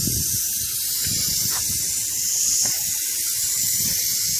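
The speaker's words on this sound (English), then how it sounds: "this paint can has the power of a spray gun right off the bat" A continuous, loud, high hiss of an aerosol spray paint can held close while painting a CJ2A grille on a Jeep TJ, steady and unbroken, with faint low knocks in the background.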